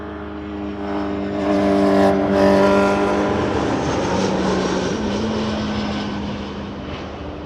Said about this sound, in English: A321 coming in next.